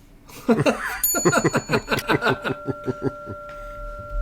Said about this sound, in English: Do me, hit the bell.